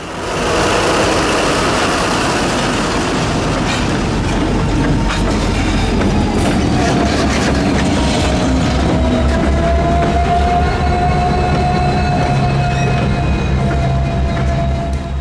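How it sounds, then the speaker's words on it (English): Cummins-swapped SD90 locomotives running light on a main line roll past loud and close, a dense steady engine drone with rail rumble and faint wheel squeal throughout, no talk. "the light engines moved clear of the switch, putting them back on the main line"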